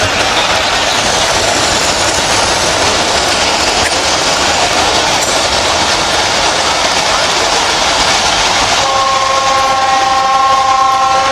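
A train passes close by with a loud, continuous rumble and clatter of wagons, and its horn blares near the end.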